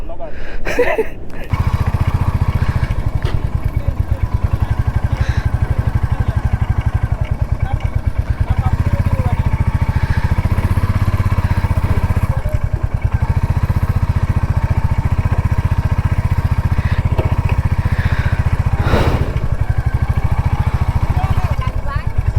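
A motorcycle engine runs steadily at close range with a low, throbbing rumble throughout, accompanied by occasional clatter and wind noise.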